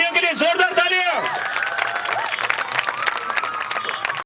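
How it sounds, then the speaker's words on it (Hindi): Audience applause for dhol drummers at a Mumbai Marathon charity stage event, a crowd clapping steadily under an announcer's voice at the start, then continuing as a dense, sustained patter. "हमारे शेर ढोलियों के लिए जोरदार तालियां"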